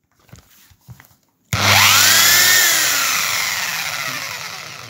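A Schultz power drill spins up suddenly in drill mode after some quiet handling noises, then runs as a loud, steady whine with a brief low rumble at the start, slowly easing a little over several seconds.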